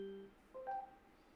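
A short electronic phone tone starts an outgoing call, a brief two-note beep followed by a higher pair of tones, faint and alone in a quiet room.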